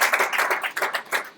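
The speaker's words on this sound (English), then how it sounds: "Barak deserves another round of applause." Audience applause for a speaker at a live-streamed media event: dense, steady clapping from many hands, fairly close, filling the whole moment with no voices.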